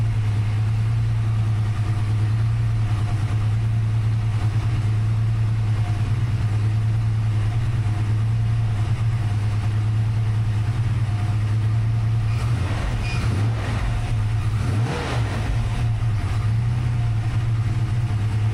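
A freshly built 363 engine with Holley Smart Coil ignition idles on its own, a steady, even low rumble that holds without revving for the whole stretch, with a little extra rattle near the end.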